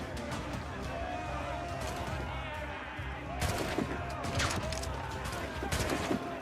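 A firecracker pops against an enemy in Assassin's Creed Rogue, heard as sharp bangs and crackling over a steady bed of game noise and music, with louder bursts clustered in the second half.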